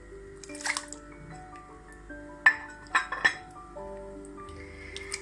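A whisk mixes spices in a bowl for chicken souvlaki, giving a few sharp metallic clinks and taps against the bowl. The knocks come sparse and irregular, close by, and stand out against a quiet background.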